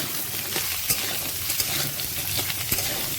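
Onions sizzle and fry steadily in a hot pan for sambar, a dense continuous crackle with occasional stirring scrapes and light utensil taps close by.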